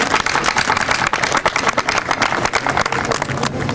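Audience applause greeting a guest at a college alumni reunion gathering, a dense, steady wash of many hands clapping that continues without a break for several seconds.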